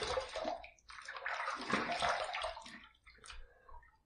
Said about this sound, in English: First pass done. Let's rinse.